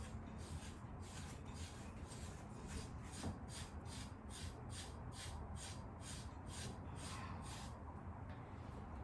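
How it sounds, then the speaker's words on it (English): A grooming rake is drawn steadily through a Gordon Setter's coat, pulling out dead undercoat in a run of even, close rasping strokes about twice a second, with no talking over it. "we're just gonna rake a little bit out of him"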